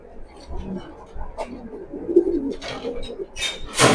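Racing pigeons being held in the hand give soft, intermittent coos nearby, with some handling noise and brief talk mixed in.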